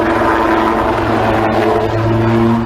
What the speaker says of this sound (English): It's all about these helicopters, the Wildcat, 62 of which were made in Yeovil